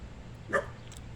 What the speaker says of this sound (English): That's my dog. Stop it.